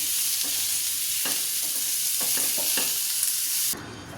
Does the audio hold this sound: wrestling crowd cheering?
no